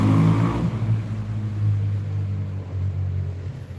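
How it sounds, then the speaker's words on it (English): A motorcycle passes along a quiet city street in Catania, Sicily, its engine rumble loud at first and then fading steadily as it moves away, with no talking. "There's a motorcycle just passed,"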